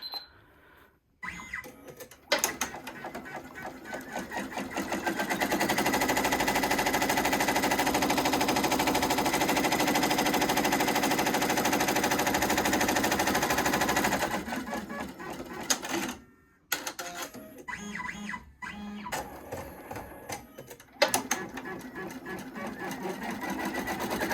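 Embroidery machine stitching at a steady, rapid mechanical rhythm, loud and close, for about nine seconds, then stopping and starting in short bursts with handling clatter and brief pauses.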